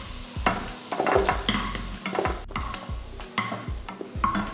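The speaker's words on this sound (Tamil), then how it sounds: "இது நல்லா வதக்கியாச்சு பாருங்கள்." Tamarind with dried red chillies and garlic sautéing in a pan for chutney, gentle sizzling under repeated brisk spoon scrapes and clinks in an uneven rhythm, close up with no voices.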